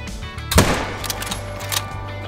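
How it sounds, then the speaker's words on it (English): A single rifle shot at a whitetail deer in a hunting game, a sharp crack followed by a brief rolling echo that fades into quiet outdoor ambience. "Here, let's shoot him."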